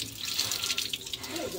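Water runs steadily through a pipe and fitting being tightened during a plumbing repair, a soft continuous hiss and gurgle heard close up with no voices over it.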